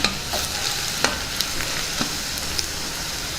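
Chili powder is stirred into tempered rice in a hot pan: a soft continuous sizzle with a spoon scraping and tapping the pan at irregular intervals, close and alone.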